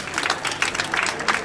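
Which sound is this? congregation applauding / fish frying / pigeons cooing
congregation applauding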